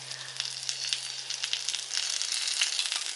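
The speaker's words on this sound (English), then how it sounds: "as you're grilling, you're going to have bacon oil or bacon fat" Bacon sizzles and spits on a hot cast iron grill griddle as its fat renders, a steady close crackling hiss with small pops and no voices.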